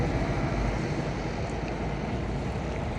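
Sea waves wash near the shore in a soft, continuous rush, faint and even, mixed with wind noise and no voices.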